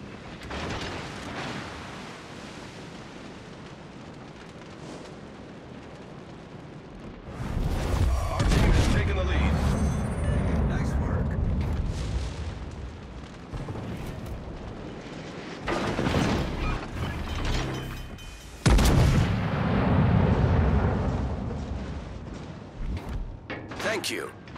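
Warship video game naval battle, with a low mechanical rumble that breaks into several loud bursts of explosions and artillery fire, separated by quieter stretches.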